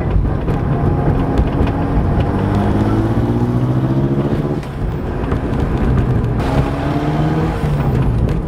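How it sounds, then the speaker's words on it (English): Mazda RX-7 FD rotary engine heard from inside the car while driving, a loud, steady buzzing drone with rising and falling pitch sweeps as revs change through the whole stretch. "Okay, so that's what rotary sounds like."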